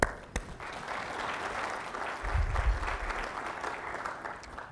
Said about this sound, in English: So good round of applause for them.